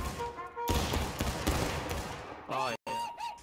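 Musket fire in the video game War of Rights crackles as a ragged volley of overlapping shots and a few sharper individual cracks, dense and near, with voices shouting briefly near the end.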